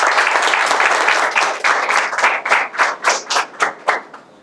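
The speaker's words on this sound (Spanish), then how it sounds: "La recibimos con un fuerte aplauso." Audience applause at a Children's Day event in Honduras: a dense burst of many hands clapping that thins out toward the end into a few slower, rhythmic claps before fading.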